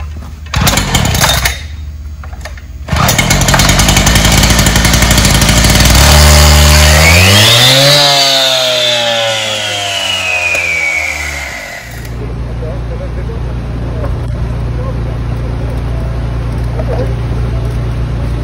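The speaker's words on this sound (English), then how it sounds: "now we're going to go over how to start the cutoff saw real quick" A 14-inch PC150 gas cutoff saw is started with a couple of sharp pull-start bursts, then roars to life and revs up in a rising whine before settling to a loud, steady idle, close and dominating throughout.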